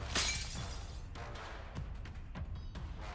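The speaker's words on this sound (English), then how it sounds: "she shatters the glass bottle that lay strewn on the ground" A glass bottle lying on the ground shatters under a fierce stomp in the Goddess of Victory: Nikke game, a loud crash followed by several sharp tinkling fragment hits scattering over the next few seconds.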